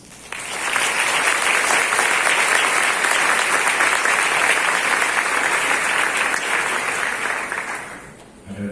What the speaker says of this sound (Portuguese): professor Rafael Andrade Cáceres, a quem a todos nós saudamos com uma forte salva de palmas.